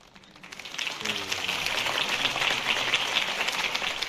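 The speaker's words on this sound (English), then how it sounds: "If only Mr. Wayne, my campaign's largest backer, could have heard that applause" Video game crowd applause in Batman: The Telltale Series swells and holds steady, a dense wash of many hands clapping with some cheering mixed in.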